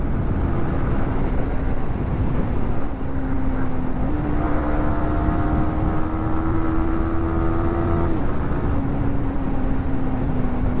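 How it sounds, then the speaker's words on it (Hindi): A Yamaha MT15 motorcycle fitted with an aftermarket chain and sprocket set accelerates at speed, the engine note droning and rising steadily through the gears with a dip at a shift, loud and close with wind rush underneath. "अभी बाइक एकदम खुल के भाग रही है"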